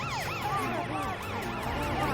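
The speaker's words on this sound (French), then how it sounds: "Avec sa sirène de police, elle va ouvrir la voie." Cartoon police siren wailing in repeated rising and falling sweeps, loud and continuous over steady background music and traffic-like noise in an animated chase scene.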